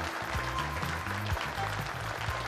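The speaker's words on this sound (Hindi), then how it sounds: "जोरदार तालियां हो जाए स्वीटी और परमीत के लिए" Steady applause from a TV studio audience, continuous and fairly loud, with a low voice or music underneath throughout.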